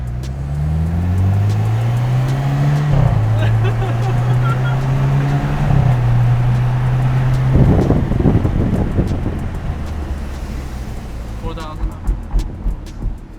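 A 2012 BMW 328i accelerates hard in a drag race, its engine note climbing through gear shifts with brief dips between pulls, heard from inside the cabin amid wind noise and some chatter.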